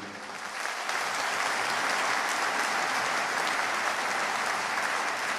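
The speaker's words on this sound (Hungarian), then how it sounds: "Az önöknek szól, nyugodtan tapsolják meg saját magukat." A concert audience at a charity evening applauds in a steady, dense wash of clapping that builds quickly and holds loud and even throughout, with no voices standing out.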